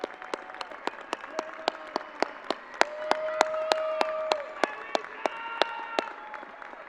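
Families receive another round of applause at a high school graduation ceremony, sparse but regular loud claps sounding near over a softer crowd bed, with a brief held tone midway.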